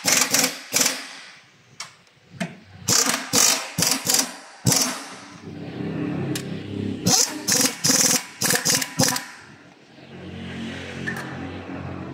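Ratchet wrench tightening an engine support bolt on a 2019 Toyota Vios, producing bursts of rapid clicking in several quick strokes with short pauses, close and fairly loud.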